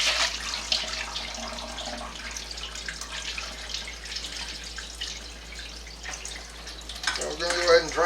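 Water drains out of a Laundreez portable travel washing bag after rinsing a shirt, pouring and trickling steadily with a soft splashing texture and a few louder gurgles near the end.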